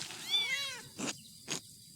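A cat meows in the medieval video game Pentiment: one clear, drawn-out meow, close and moderately loud, followed by two short soft noise bursts.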